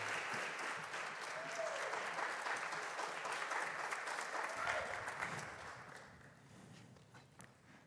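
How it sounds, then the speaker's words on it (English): An audience at a startup pitch competition finale breaks into loud, sustained applause that carries on evenly before tapering off and fading near the end. "So you can give them a round of applause."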